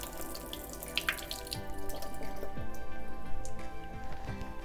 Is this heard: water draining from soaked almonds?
yes